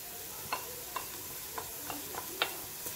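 Spices frying in hot oil with browned onions for a kabsa, a close, steady sizzle broken by several sharp scraping stirs spaced across the stretch, with no one talking.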